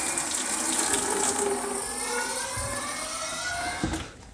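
Water from an opened cold kitchen pipe runs steadily into a bucket during a kitchen refurbishment, a continuous rushing, splashing stream heard alone with no talk, ending in a brief knock.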